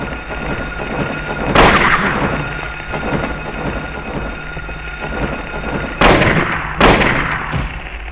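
A rifle fires in the Silent Hill video game, three loud booming shots, one early and two close together near the end, each with a long reverberant tail over a steady low ambient drone.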